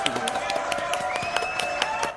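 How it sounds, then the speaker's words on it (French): Audience applause for Nathalie Boileau at a French live show, a steady wash of clapping with sharp individual claps standing out and a crowd murmur beneath. "Applaudissements donc pour Nathalie Boileau"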